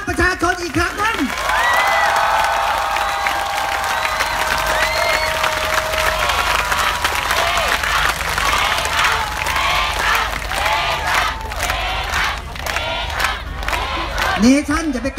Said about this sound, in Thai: ขอให้พี่น้องทุกคนปรบมือเรียกร้องให้สื่อกลับมาอยู่ข้างประชาชนอีกครั้งนึง